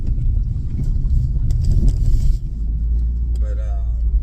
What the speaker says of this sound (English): Don't know what this car is doing.